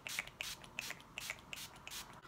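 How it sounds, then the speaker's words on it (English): Quick misty spritzes of Urban Decay All Nighter setting spray across a face, a series of short hissy bursts in a steady rhythm, close and fairly quiet with no talking. "We're going to go in with our Urban Decay All Nighter spray."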